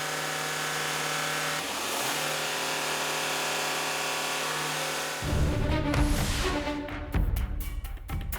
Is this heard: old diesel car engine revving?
yes